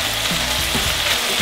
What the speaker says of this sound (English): we're going to fry the bacon over medium heat in a large soup pan